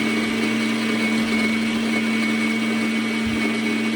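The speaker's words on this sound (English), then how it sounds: "Pardon the 30 seconds of grinding sound." Fellow Opus burr grinder running on a medium setting, grinding coffee beans with a loud, steady motor whir and a constant hum from start to finish.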